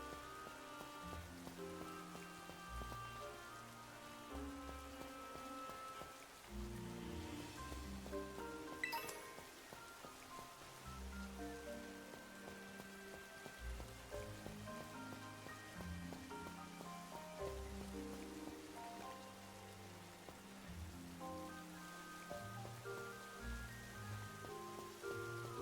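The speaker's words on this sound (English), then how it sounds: "Yay, the rain stopped." Rain pattering steadily in a Pokémon video game, a soft continuous hiss layered under constant background music with chiming melodic tones.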